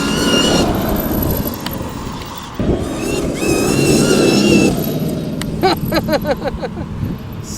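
A Kraken Vesla car speeds past loud and close, a roaring engine rush that swells and fades, followed by sharp rattling clicks and whirs near the end.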